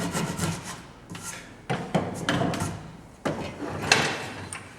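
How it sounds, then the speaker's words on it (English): A hand saw cuts off the end of a wooden tenon on a mortise and tenon joint, giving several close rasping strokes in uneven bursts with short pauses between them. "Saw it off."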